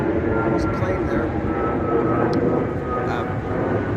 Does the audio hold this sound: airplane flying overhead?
yes